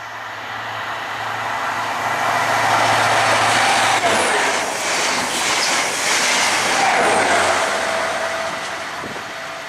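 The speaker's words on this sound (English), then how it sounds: "back to pass through is a ScotRail HST set." A ScotRail HST set passes at South Gyle on an Edinburgh Waverley to Aberdeen run: a loud, steady rumble with clicking wheels and brief squeals, close by and alone.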